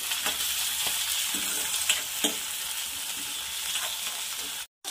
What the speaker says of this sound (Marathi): मेथी ॲड करत आहे, असं छान फिरवून घ्यायचं।